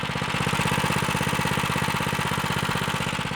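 Go-kart engine fitted with a header hot plate runs at high RPM, a loud, steady, rapid mechanical buzz with fast regular firing pulses throughout and no talk over it.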